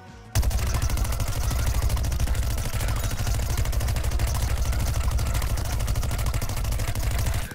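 Rapid, continuous automatic fire from the Peashooter's Gatling mode in Plants vs Zombies Garden Warfare, a dense loud rattling burst lasting several seconds after a sudden start.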